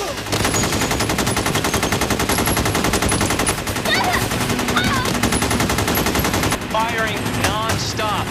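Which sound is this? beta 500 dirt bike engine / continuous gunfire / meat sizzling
continuous gunfire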